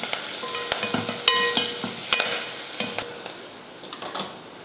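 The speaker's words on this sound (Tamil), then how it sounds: "கொஞ்சமாக மஞ்சள் தூள். இதை கலந்து விட்டுருவோம்." A spoon scrapes and taps against a pan while stirring turmeric and spices in steadily sizzling hot oil, with irregular clinks throughout.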